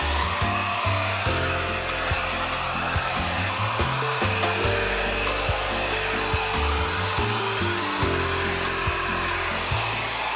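Hair dryer fitted with a diffuser attachment, set to second heat and second airflow for drying curly hair, blows with a loud, steady broadband roar that runs continuously, with shifting low motor hum beneath and no voices.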